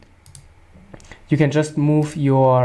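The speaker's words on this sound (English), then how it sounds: "you click on here this green line" A couple of quiet computer mouse clicks come first, followed by a person speaking.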